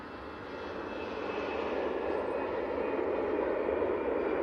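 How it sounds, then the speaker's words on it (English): An airliner taking off from Manchester Airport on a flight to Belfast, its engine roar swelling over the first seconds into a steady, powerful rumble heard from a distance. "on a flight to Belfast, didn't need a lot of runway to take off"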